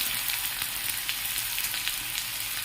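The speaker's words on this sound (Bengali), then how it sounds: "এরপর ধুয়ে কেটে রাখা আলুগুলো দিয়ে দেবো। আলুগুলো ভালো করে একটু নাড়াচাড়া করে নেব" Washed, cut potatoes fry in a pan with a dense, close sizzle and crackle, with occasional light stirring scrapes and no voices.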